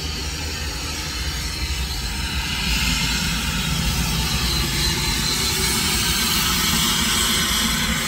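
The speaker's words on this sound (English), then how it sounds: "there's a jet coming by" A jet aircraft passes overhead, a broad steady roar that swells slightly partway through and stays loud to the end, with no talking.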